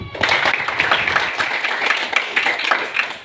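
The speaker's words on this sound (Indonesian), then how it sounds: "berikan tepuk tangan bagi temanmu" Pupils in a classroom clap for a classmate, giving a lively burst of close, uneven hand claps that continues steadily for a few seconds.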